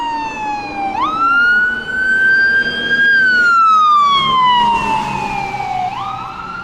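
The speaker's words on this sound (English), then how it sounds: "I think there's also a fire truck." A loud, close emergency vehicle siren wailing up and down in long sweeps, with traffic rumbling underneath, on a snowy street near the White House.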